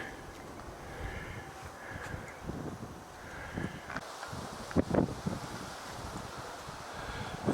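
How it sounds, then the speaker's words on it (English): Wind gusts through the trees along the Badaling section of the Great Wall near Beijing, a soft rustling hiss with gentle swells and faint buffeting on the microphone. "The wind's blowing."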